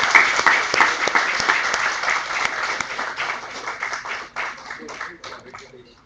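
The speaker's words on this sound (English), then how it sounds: "I think we should applaud this moment." Audience at the valedictory session of a national paper reading competition applauds the prize winners, a dense sustained clapping that starts strong and gradually thins and fades toward the end.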